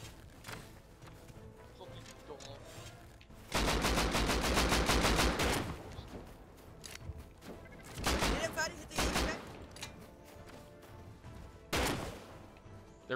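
Gunfire in the survival game Rust: loud bursts of rapid automatic fire alternate with single shots and short volleys, close and sharp, with people talking in between.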